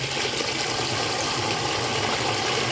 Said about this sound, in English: so here's the flush.